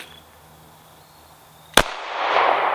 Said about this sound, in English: we're going to shoot just a solid brass at it